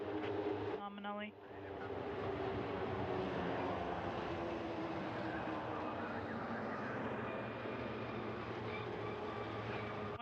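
Soyuz TMA-12M rocket launch with stage 1 thrusters firing: a steady, continuous roar sustained throughout, briefly interrupted near the start by a short tonal beep, with a voice talking over it.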